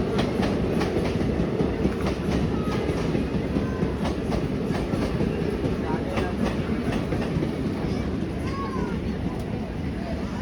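Train running at Nayandanahalli station amid crossings and overtaking by other trains: steady loud rumble with clickety-clack wheel beats throughout, close and continuous.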